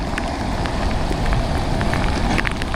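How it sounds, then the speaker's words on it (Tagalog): Heavy rain pours down steadily in a dense, continuous hiss, with scattered drops spattering nearby surfaces. No voices. "Ayan na, lumakas na po ang ulan."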